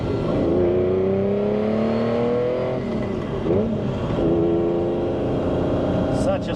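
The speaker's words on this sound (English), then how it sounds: "Such a sweet sound from that V12." A 1984 Lamborghini Countach LP500 S with a V12 engine drives under steady load, its loud harmonic engine drone rising in pitch and shifting through gears. The sound holds close throughout.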